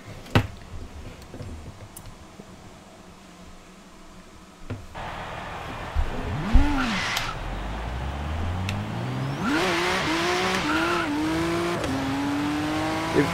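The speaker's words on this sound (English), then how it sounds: "Engine sounds are better." A quiet stretch gives way to a Le Mans GT race car engine in Forza Horizon 3 revving up, then climbing steadily through gears, loud and close with a sharp rising whine.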